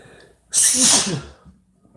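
A single loud, close sneeze erupts after a quiet breath and fades into soft breathing.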